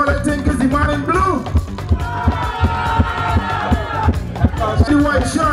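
A festival crowd at the Union Island Conch Festival 2023 claps and cheers loudly during a show-of-hands vote, a continuous roar of whoops and mixed voices.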